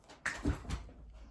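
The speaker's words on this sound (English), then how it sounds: "That's my dog." A dog whimpers in a few short, whiny bursts close by, a brief high cry followed by lower whines, with no talking.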